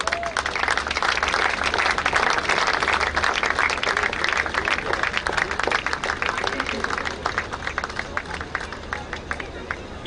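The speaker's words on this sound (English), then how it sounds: "a big round of applause to the champions of the 70 plus combined women's doubles veterans" Crowd at a badminton tournament prize distribution in Bandra clapping for champions, a sustained, even wash of applause lasting throughout, fairly loud and close, with a voice speaking at the start and murmured chatter underneath.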